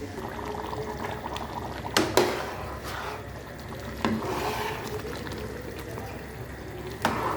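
Water pours into a cooking pot while lentils are prepared for an adas dish, making a steady rushing, splashing wash with a few sharper clanks and knocks close by and no talking.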